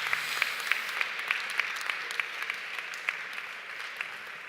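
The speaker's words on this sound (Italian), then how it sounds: "Un applauso." Audience applause at an open conference on the Sardinian language, steady crowd clapping with sharp individual claps standing out, fairly close and sustained throughout, no talking.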